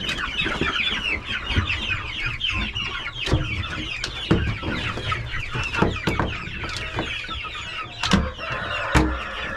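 Chickens and young pullets on a farm cluck and squawk together, a busy, close chorus of overlapping clucks with sharper sporadic calls and rustling, no voices over it.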